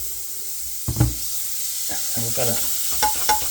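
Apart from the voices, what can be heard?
butter melting and sizzling in a hot pan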